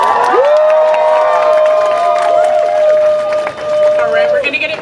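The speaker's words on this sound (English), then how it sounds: "Let's give another round of applause for Sandra Perez." A rally crowd in Toronto cheers and claps loudly, whoops and shouts rising over sustained applause, with a loud voice carrying through the noise.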